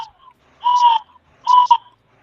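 An owl call device blown to imitate an owl hoot gives two clean, wavering hoots, each about half a second long, close and fairly loud with silence between.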